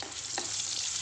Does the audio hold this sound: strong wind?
no